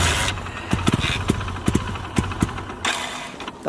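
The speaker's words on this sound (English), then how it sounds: "The bike is now starting." Water-powered motorcycle engine running after starting, an uneven idle with irregular loud pops and coughs spaced through a rough, sputtering rumble, close by.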